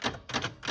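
Rapid clattering keystrokes on a Nakajima WPT-150 electric typewriter, three dense bursts of close, crisp mechanical strikes in quick succession.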